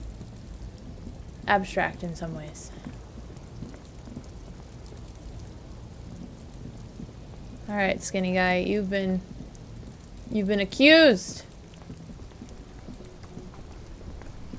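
Steady rain patters throughout a scene in the video game Disco Elysium, a constant soft hiss under a voice speaking in several short bursts.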